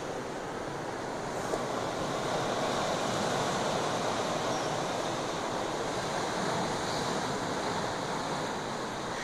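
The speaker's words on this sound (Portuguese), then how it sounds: "Praia do Visigal. Lindo lugar, praia maravilhosa." Ocean waves at Praia do Visigal beach, a steady broad wash of surf with wind blowing across, continuous and even, no distinct individual breakers standing out.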